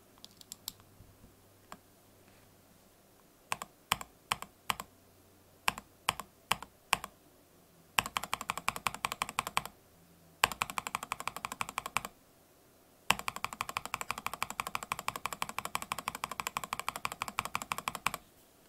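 Keys click on stock Everglide Honey Yellow switches fitted with a PPT keycap, first as spaced single presses, then in fast continuous typing bursts separated by short pauses, close and crisp, with no talking.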